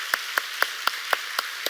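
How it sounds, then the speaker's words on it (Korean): A church congregation at a Sunday afternoon service claps together in a quick, even rhythm, about seven crisp unison claps at steady intervals, fairly soft over a quiet room. "우리 힘차게 경제 박수부터 합니다"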